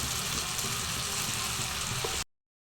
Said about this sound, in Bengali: সব মশলাগুলো তেলের মধ্যে ভালো করে কষাবো